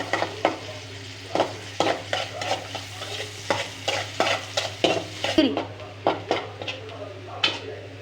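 Garlic and onion frying in oil, a steady sizzle under repeated scraping strokes of a spoon stirring in the pan, with a low constant hum underneath.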